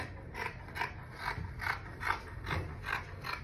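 Scissors snip through fabric while trimming the length of a fitted Ankara bubu dress, giving a soft, close, regular series of about eight crisp cuts evenly spaced over a few seconds.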